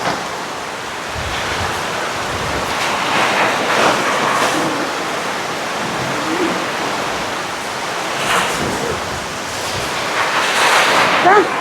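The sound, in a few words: heavy rain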